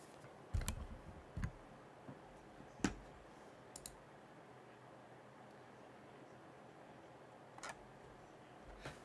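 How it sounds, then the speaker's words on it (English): Computer mouse clicks sound as a few sharp, isolated ticks spread irregularly over several seconds, faint against a quiet room with low background hiss. "mouse clicks are not getting in the stream"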